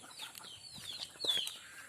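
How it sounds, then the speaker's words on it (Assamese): Soft clucking of hens and thin high peeping of chicks, quiet and intermittent, with no talking. "এইবোৰ কুকুৰাবোৰ উমনি মানে দি থোৱা হৈছে।"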